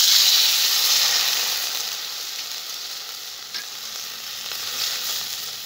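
Fried potatoes in a pan hiss loudly as water hits the hot oil, a bright steamy sizzle that starts strong and slowly eases to a softer, steady bubbling.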